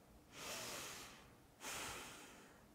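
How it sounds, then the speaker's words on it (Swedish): A person takes two slow breaths in, each a long airy inhalation lasting under a second, close and clear against a quiet background. "Jag tar ett andetag."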